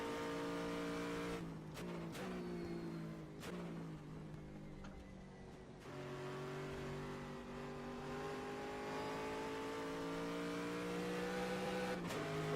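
An Aston Martin Vantage GTE race car engine screaming around Sebring at night in a racing game, steady high revs with several sharp gear shifts and brief dips, loud and close throughout without voices.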